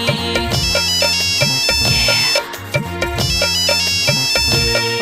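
A loud, melodic mobile phone ringtone plays a repeating electronic tune with a steady beat, filling the whole clip.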